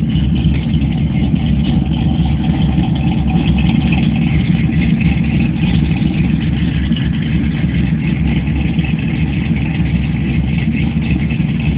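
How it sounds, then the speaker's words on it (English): A 1995 Camaro Z28 with an LT1 V8, hot cam, long-tube headers, X-pipe, bullet mufflers and 2.5-inch tailpipes idles loud and close at a gas station, with a steady, deep, slightly lumpy rumble. "Car sounds pretty good for an LT4 hot cam."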